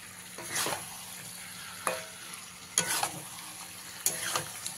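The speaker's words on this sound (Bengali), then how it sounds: "মশলার সাথে গাঁটি কচুগুলোকে খুব ভালো করে মিশিয়ে নিয়েছি।" Fried potatoes and taro are stirred into a spice masala in a pan for kochur dom. About four distinct scraping strokes of the spoon ring out over a continuous low sizzle, close up, with no talking.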